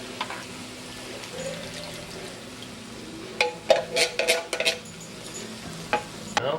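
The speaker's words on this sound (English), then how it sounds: "Now we're going to put in a large can of sliced tomatoes" Large can of sliced tomatoes poured into a sautéed onion and green pepper mixture, a soft stirring and sizzling base broken by several loud wet splashing bursts in the second half.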